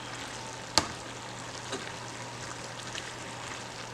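Southern fried cabbage cooking in a pan gives a steady, soft sizzle and fry hiss that runs throughout, broken by one sharp utensil click near the start. No one speaks.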